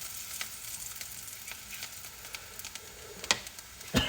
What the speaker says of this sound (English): And it's looking beautifully fried up.